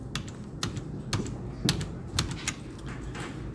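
Computer keyboard keys pressed repeatedly during Adobe Illustrator work using the Ctrl D duplicate shortcut, a close run of crisp, fairly evenly spaced clicks with no talking.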